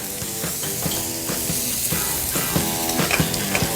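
Knobs of butter sizzle and fry loudly in a hot pan beside a herb-crusted rack of lamb, a dense continuous crackle with rhythmic clanks and scrapes from basting, close up.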